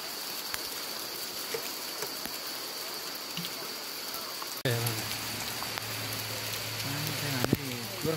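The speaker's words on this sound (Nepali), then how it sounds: "हेर कस्तो भीषण पानी परेको" Heavy rain pours at Gorkha Durbar, the Gurkha Palace in Nepal, a steady close patter on surfaces that grows fuller partway through, with faint voices in the background.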